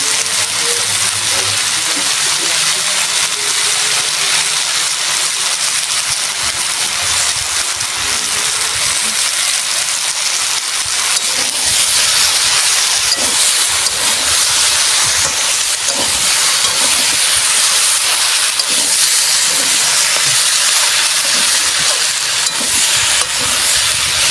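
Turmeric, Kashmiri chilli powder and mixed vegetables for a Bengali panchmishali chorchori sizzle loudly and continuously in a pan, a dense steady hiss with no voices.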